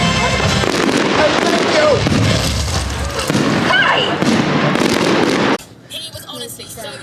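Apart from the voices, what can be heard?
fireworks display at Blackpool Pleasure Beach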